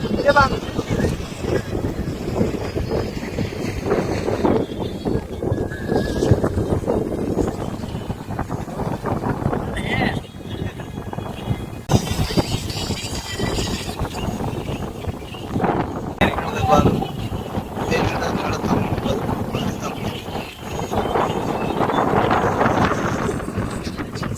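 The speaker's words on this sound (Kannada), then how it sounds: "ಏನ್ ತಂಪು ಗಾಳಿ ಬರತ್ತರಿ" Steady wind buffeting outdoors, a continuous rushing roar with gusts, while people talk faintly in the background.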